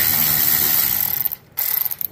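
A ratchet wrench clicks rapidly and loudly up close in a continuous burst, stops for a moment, then starts again with quicker, more uneven clicks.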